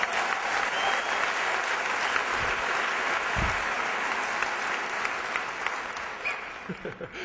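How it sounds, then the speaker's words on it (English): Audience applause at a motivational speaker's talk, a dense, steady roar of many hands clapping throughout, fairly loud and fading slightly toward the end, with a few brief voices underneath. "Since we're clapping by applause"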